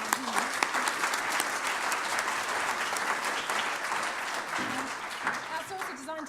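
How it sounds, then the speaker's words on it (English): Audience applause at a conservation symposium, a steady round of clapping from a crowd that holds evenly for about six seconds, with a voice breaking in briefly near the end. "perhaps just a quick round of applause for a really insightful"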